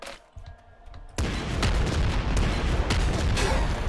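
Rockets firing and exploding in Nuclear Throne, a dense, continuous roar of blasts after a brief quieter opening, loud and sustained with repeated impacts.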